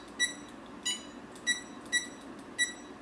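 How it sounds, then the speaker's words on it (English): Short electronic beeps from a button on a protogen costume head's electronics sound five times at irregular intervals, faint and nearby, over a quiet background hiss. "I didn't know this thing could beep."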